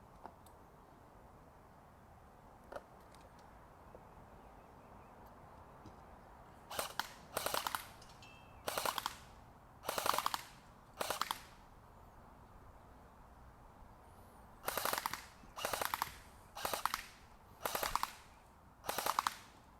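CYMA 048 AKM airsoft rifle with SWIT upgrades fires on full auto: a faint lone shot, then eight short bursts of rapid clicking shots in two clusters, crisp and fairly close, with no talking.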